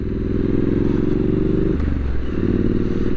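A Triumph Street Scrambler 900 rumbles along at low speed in slow traffic, its loud, throbbing twin-cylinder engine note close and continuous. A brief change in the rhythm midway sounds like a throttle shift or gear change.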